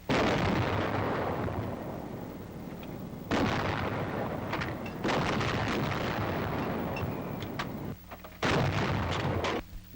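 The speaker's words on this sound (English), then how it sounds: "the order to commence firing is given" Loud, booming shots from a 90 mm antiaircraft gun, several heavy blasts in succession with long rumbling decay between them, close and dominant with no talk.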